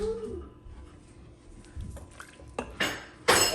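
Stew peas with oxtail stirred in a cooking pot, with soft scraping and clinks of a spoon against metal that build to two louder splashy bursts near the end, without talk.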